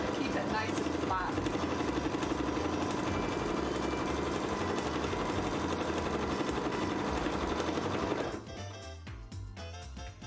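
Sewing machine steadily stitching veins in a hooped piece, a continuous dense mechanical hum with rapid needle rhythm that drops slightly near the end, with a voice talking over it.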